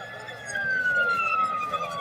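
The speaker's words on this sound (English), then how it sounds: "Okay, now I have the siren sound." A police siren sound effect wails with a slowly falling pitch over a dense background hum, loud and sustained for a couple of seconds.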